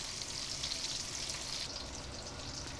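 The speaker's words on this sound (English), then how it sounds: "are going to shallow fry the fish but not cook it through" Pieces of koi fish shallow frying in oil in a pot give off a steady, even sizzle and crackle, moderately loud and close, continuing for several seconds with no voices.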